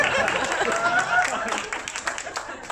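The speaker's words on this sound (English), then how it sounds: "You just clap for me, okay?" Audience at a sales agent talk clapping on request, a dense patter of many hands with brief voices mixed in, gradually thinning toward the end.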